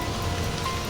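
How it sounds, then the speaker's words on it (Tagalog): Rain falls as a steady broadband hiss with a dense patter, fairly loud and continuous through the brief moment, with no voices heard. "yun ko lalakas pa tong ulan, baka mababasa tayo"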